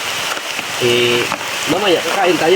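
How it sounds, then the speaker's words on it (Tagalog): Heavy rain pours in a steady broadband wash through the whole stretch, with people talking close by over it. "Lakas ng ulan."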